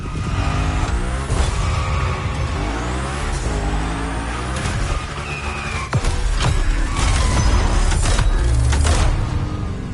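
A car in The Crew Motorfest performs a Gymkhana trick, its engine roaring loud and constant while tires squeal and skid in sustained bursts, close and intense throughout.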